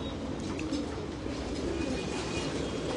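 Pigeons in a loft being given food, soft low cooing close by over a quiet background, with no talk.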